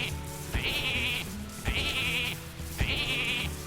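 Three loud, close sheep bleats repeat at roughly one-second intervals in the card game Hearthstone, each a wavering nasal cry over a faint game backdrop.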